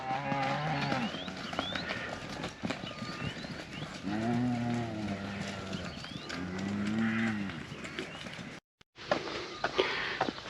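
Cattle moo repeatedly on a farm lane in the Devon countryside, long low calls rising and falling at close range while a herd is moved, with faint shuffling and outdoor background noise around them.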